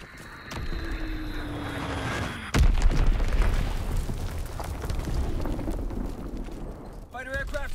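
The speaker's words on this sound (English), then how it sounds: "Dropping Azon bomb." A bomb explosion in a video game, an Azon bomb dropped onto the battlefield, bursts abruptly and loudly, then leaves a long rumbling roar amid continuous game noise and a voice.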